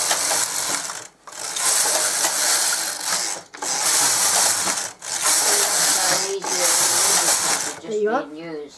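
A domestic knitting machine's carriage is pushed across in several passes, each a loud rattling, clicking sweep about two seconds long, separated by short pauses; a voice speaks at the very end.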